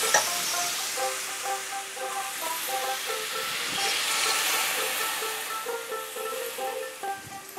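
Water poured into a hot pan of potatoes for a plain white potato curry sets off a continuous hiss and sizzle, fairly quiet and close, lasting several seconds with no talking.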